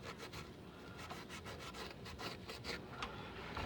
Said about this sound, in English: If you find something, give it another scratch with the Scotch-Brite